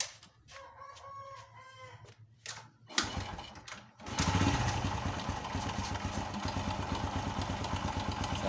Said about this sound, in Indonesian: Saya akan coba hidupkan motornya.